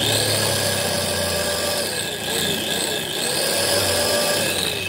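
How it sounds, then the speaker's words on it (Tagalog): Kazumi electric meat grinder running after repair, a steady loud motor whine with a constant hum that holds evenly, dipping briefly a couple of times as the load shifts. "So okay na tong Kasumi meat grinder, electric meat grinder."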